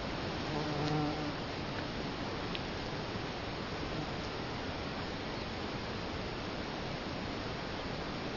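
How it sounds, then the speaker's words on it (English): Bumble bees buzz in a dense, continuous drone outdoors, close and steady for the whole stretch with no voices over it. "Look at all the fucking bees."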